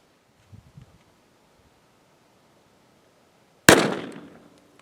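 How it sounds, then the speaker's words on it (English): A single sharp gunshot from a Kel-Tec PMR-30 pistol firing Hornady 30 grain VMAX .22 Magnum rounds cracks loudly outdoors, decaying over about a second after a few faint rustles and otherwise quiet surroundings. "Getting ready to shoot the 30 grain VMAX by Hornady 22 mag."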